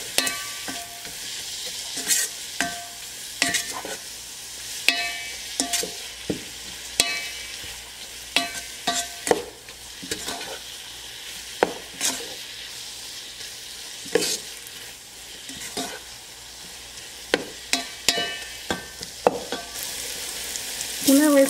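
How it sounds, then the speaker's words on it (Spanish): Carrot, bell pepper and onion sauté in a pan with a continuous sizzle, punctuated by frequent rhythmic spatula scrapes and taps against the pan, close up and without speech. "Una vez sofrito la zanahoria, el pimentón y la cebolla"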